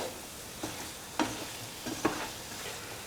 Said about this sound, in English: And mix the paneer pieces with the rest of the mixture.